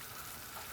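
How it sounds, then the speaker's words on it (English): Jalapeños simmering in a pot for hot sauce, giving a steady, even bubbling and sizzling wash that stays constant throughout, with no voices. "I'm gonna go ahead and simmer these, stirring occasionally until your jalapenos are softened."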